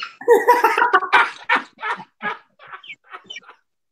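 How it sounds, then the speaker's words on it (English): A chicken clucks close by in a quick run of throaty calls that grow shorter and fainter and then trail off. "Oh, ain't no eagles here. This be a chicken."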